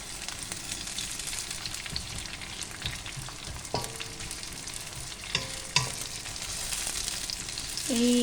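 Bitter melon (ampalaya) sautéing in a pan until brown, a continuous close sizzle broken by scraping stirs and a few clinks of the utensil.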